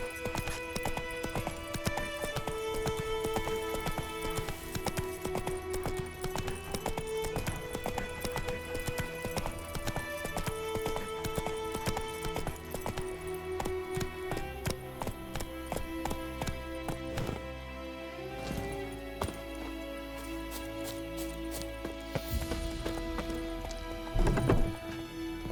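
Roach, the horse in The Witcher 3 video game, gallops in a fast, continuous run of hoofbeats over game music, with a louder thump near the end.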